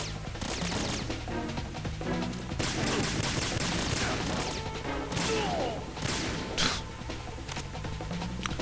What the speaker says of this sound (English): This pistol is not doing it against the armored guys